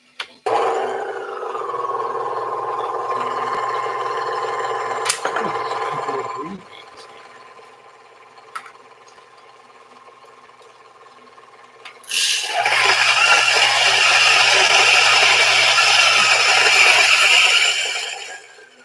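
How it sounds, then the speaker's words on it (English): Electric grinder grinding Khulani Northern Crown coffee beans from Yemen: a steady whirring grind that pauses midway, then returns louder and harsher before cutting off. "And let's bring in our grinder"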